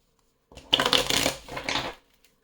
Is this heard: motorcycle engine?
no